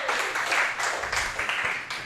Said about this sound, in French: Je demanderai une bonne main d'applaudissement à notre chum Shane Harper